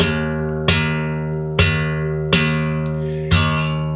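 Electric or acoustic guitar slap technique, thumb thumping an open low string: four deep, punchy booming hits spaced about a second apart, each ringing out and fading, close and alone.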